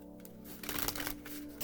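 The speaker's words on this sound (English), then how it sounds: "I can't really shuffle this deck," A deck of tarot-style cards is shuffled by hand in a quick riffling flutter that swells briefly, close and quiet, with no talking.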